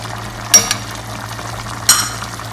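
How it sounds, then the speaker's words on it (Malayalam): A spoon scrapes and stirs through green chicken curry with spices in a pan, giving two brief clinking strokes over a low, steady sizzle. "നല്ലോണം മിക്സ് ചെയ്യാം"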